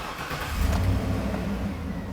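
A 2007-2014 Cadillac Escalade engine catches and settles into a low, steady idle, close and moderately loud, with no voices.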